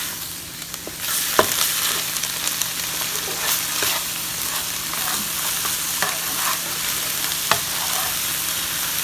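Minced pork sizzles steadily in a hot pan for pork larb, with scraping stirs and occasional clicks of a utensil against the pan close by.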